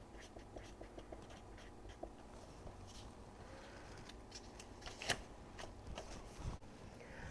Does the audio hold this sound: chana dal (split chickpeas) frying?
no